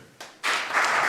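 Applause breaks out from a live audience at an event, jumping in sharply after a brief lull and then holding as a dense, steady wash of clapping.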